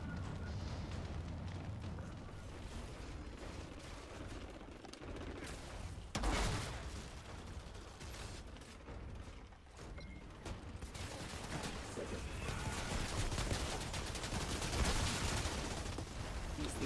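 Grenade explosions and bursts of gunfire in the video game Outriders, a dense, continuous battle din with repeated booms and rapid shots, loudest around the middle and late stretches.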